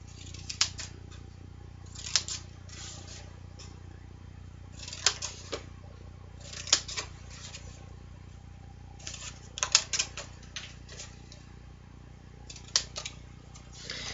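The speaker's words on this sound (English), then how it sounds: "And actually we are also going to cut off this bottom corner." Scissors snip the corners off cardstock for a card box, a series of crisp, close cuts repeating at irregular intervals over a quiet background with no talking.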